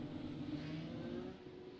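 Open-wheel Indy race cars in the iRacing sim at a Kentucky oval accelerate off pit road, a faint, steady engine whine holding through the clip with no other sound over it.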